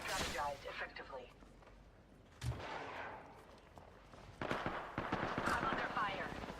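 Bursts of gunfire crackle through a tactical battle-royale video game match, mixed with game effects and a voice talking throughout, with a sharp low impact near the middle.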